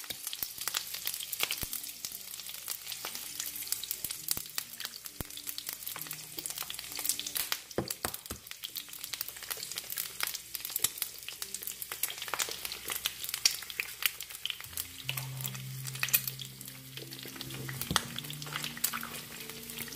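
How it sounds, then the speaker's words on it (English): Eggs frying in a pan with onion, a steady close crackling sizzle with scattered pops and a few scraping stirs throughout. "now I'm going to add an egg into each one of these."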